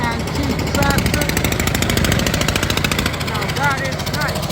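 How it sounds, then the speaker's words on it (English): Antique Italian tractor engine running in a parade in Tuscany: a loud, rapid, steady thumping chug that continues throughout, with crowd voices mixed in. "But we start with the Italian antique tractor."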